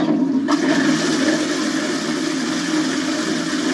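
Toilet flushing in a radio advert, a loud rushing gush of water that swells at the start and then holds as a steady churning roar, close and without speech.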